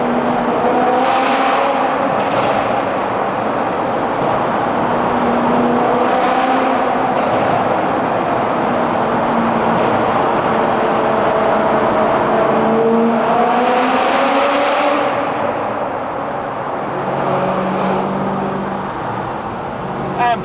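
A Toyota MR2 is driven at steady road speed, its engine drone rising and falling through gear changes over constant road noise, with occasional talk inside the car.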